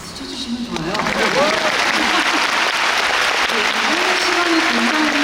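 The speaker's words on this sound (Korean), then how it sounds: "박수 쳐주시면 좋아요." Concert audience applauding a Korean classical concert of Verdi and Puccini opera music, as the Gyeonggi Philharmonic Orchestra and conductor arrive, with dense sustained clapping filling the hall and a voice speaking over the start.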